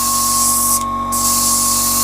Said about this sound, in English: you crank the pressure up, and then, yeah, it's spraying it